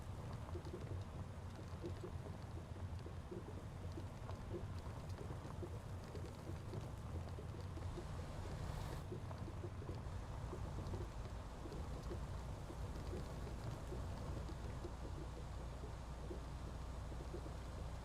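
Steady rain with rumbling thunder in American Truck Simulator, a dense continuous wash of drops holding even and close for the whole stretch, with no talking over it.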